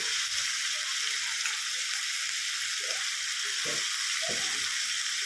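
Steady, even sizzle of a chicken stew in a pan as potatoes and other vegetables go in, with a few soft stirring scrapes and clunks standing out over the constant hiss.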